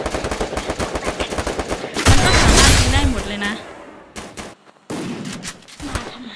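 Video game gunfire aimed at players on a roof: rapid automatic bursts of shots, loud and close, followed by a heavier blast and scattered shots, with a voice talking over parts of it.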